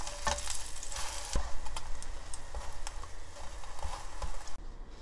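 Frying in a well-oiled pan while making a garnish for oyster rice cake soup: an uneven sizzle and patter with a few sharp clicks and knocks, fairly close, without talk.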